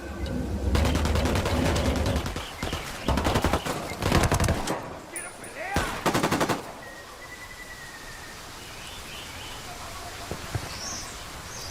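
Bursts of automatic gunfire in the video game Ghost Recon Wildlands, several loud rattling volleys over the first half followed by quieter ambience with distant birds, with voices calling out amid the shooting.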